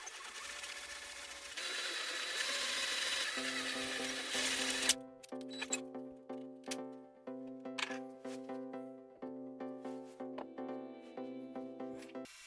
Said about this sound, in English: I drill a hole for the high-frequency speaker with a size of 32 mm